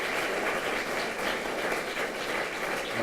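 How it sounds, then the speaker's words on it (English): An audience at a women's recognition event applauds students with sustained, dense clapping that fills the whole stretch at even loudness, with no talk over it. "how about one more round of applause for all these students?"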